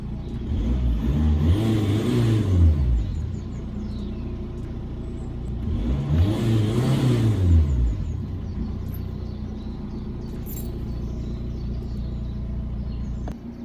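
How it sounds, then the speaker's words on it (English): An Audi car engine revs twice in long, rising and falling swells over a steady idle rumble, heard close and alone with no talking. "give the car a little bit of a rev and see whether that changes"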